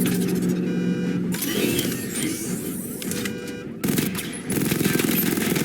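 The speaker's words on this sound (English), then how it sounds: "I need to power up the secondary weapon to level 2 before firing." Rapid automatic weapon fire from a secondary weapon in Batman: Arkham Knight, a dense, loud rattling burst layered with mechanical game effects that pauses briefly before resuming with heavier impacts.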